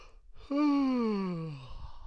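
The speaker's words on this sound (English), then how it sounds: "Sorry about my yawning, guys." A single long, drawn-out yawn rises suddenly and slowly tapers off, close and clear, with no talking.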